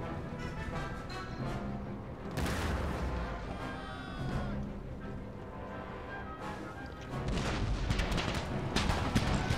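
Cannon and artillery fire in an Empire Total War battle against Cossack infantry, repeated heavy booms over a continuous rumble of battle noise, with louder blasts near the start and end.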